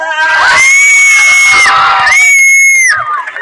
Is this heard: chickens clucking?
no